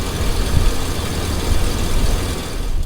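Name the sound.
Chevy 2500HD 6-liter V8 engine idling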